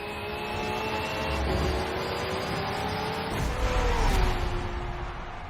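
Race cars in Forza Motorsport 7 roar past with rising and falling engine whine, several cars close by accelerating and shifting in a continuous loud blur of motor noise.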